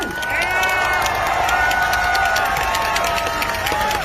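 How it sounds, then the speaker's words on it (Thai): A large crowd at a public talk cheers and claps steadily for a speaker, with whistles and shouts rising above a dense wall of noise that holds for several seconds. "เสียงปรบมือ"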